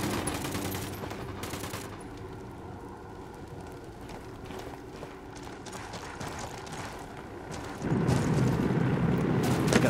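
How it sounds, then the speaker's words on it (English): Sustained gunfire and explosions from a Ghost Recon Wildlands firefight, dense overlapping bursts throughout, with a heavier, louder barrage of booming fire building in the final two seconds. "Opening fire"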